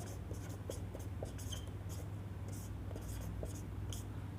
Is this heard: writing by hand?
yes